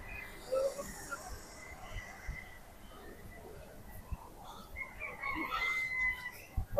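Chickens and ducks at a market in Kuwait, with faint clucks and a distant crow over a low murmur of background noise and occasional clatter.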